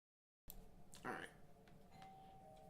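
A doorbell chimes once at a home, a short bright ring rising out of steady room hum and a quiet stream of background talk, then fading as a faint tone lingers.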